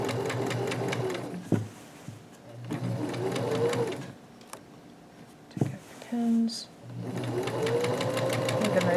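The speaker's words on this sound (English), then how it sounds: "Make it nice and slow and control the sewing machine." Sewing machine stitching the seam of pajama pants in short whirring bursts with pauses between them, while an instructor talks over and between the runs.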